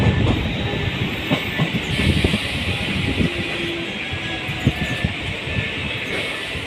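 A train rolls through Hitech City railway station in Hyderabad with a steady rumble, rhythmic clicks of wheels over rail joints and a high hiss, heard close and loud from on board.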